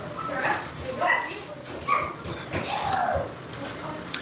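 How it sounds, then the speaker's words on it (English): A little dog yips, barks and whimpers in several short bursts nearby, with speech mixed in. "Sounds like the little dog is walking around."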